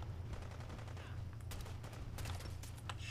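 Rapid automatic gunfire from a legendary gunner in Fallout 4 rattles in dense bursts over a low rumbling background, with sharper shots standing out toward the end, somewhat faint and distant.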